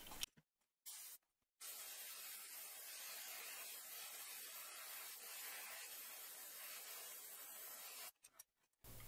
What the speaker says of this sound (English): I'm gonna spray a little bit of green there.